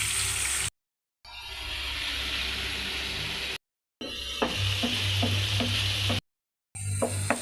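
Egg frying and being stirred into sautéed bitter gourd (ampalaya) in a pan, a loud close sizzle broken by short gaps, then rhythmic scraping strokes of a utensil stirring through the spattering mixture.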